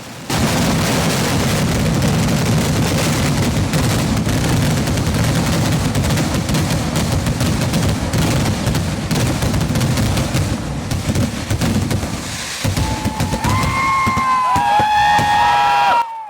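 Loud, continuous booming and crackling of temple fireworks in Palakkad rolls on without pause, then whistling, squealing rockets rise near the end.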